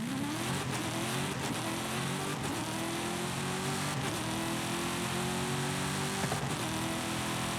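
Car launching and accelerating in the Forza Horizon racing game, its engine note rising steadily through the gears with brief shift breaks, loud and continuous with no talking.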